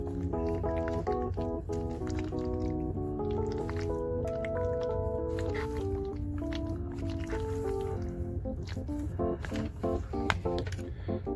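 Thick, creamy Panera Baja mac and cheese stirred in a container, with soft squishy, wet squelching sounds over a steady background of music.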